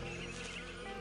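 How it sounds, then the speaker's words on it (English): Donkey braying inside the Psychonauts video game, a single loud, continuous bray filling the whole second with harsh, rasping tone and no talk over it. "Donkey!"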